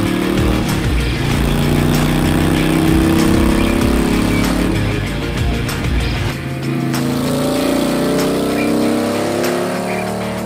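A Harley-Davidson 883 motorcycle fitted with a stage one kit runs hard on a dyno, loud and close, with a deep pulsing engine roar that rises through the run and then eases slightly.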